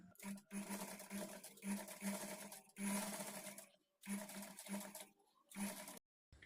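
A sewing machine stitches a blouse in bursts of steady rapid whirring, stopping briefly between runs.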